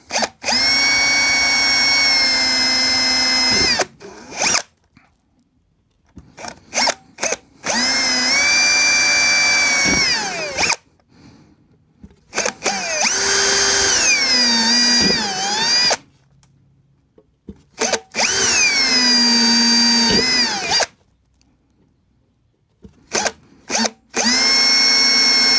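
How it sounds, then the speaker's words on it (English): Power drill boring a small pilot hole in a metal amplifier chassis: several close, loud bursts of high whining motor and bit cutting noise, each a few seconds long, separated by silent gaps, with no talking. "let's go ahead and get the baby pilot hole drilled"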